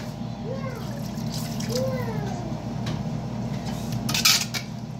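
Water is poured into a pan of lechon adobo simmering with oyster sauce and brown sugar, a soft trickle amid light clinks of pan and utensils, with faint background voices.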